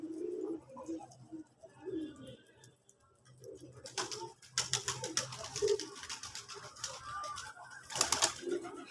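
Free-roaming pigeons on a small farm coo repeatedly at close range, low throaty calls alongside bursts of wing flapping and scattered rustling, with occasional voices nearby.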